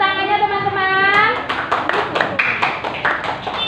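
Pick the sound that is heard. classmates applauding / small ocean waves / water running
classmates applauding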